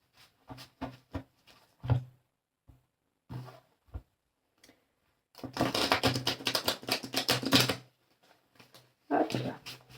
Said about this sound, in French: Et comme ils s'utilisent dans les deux sens, il faut bien les brasser.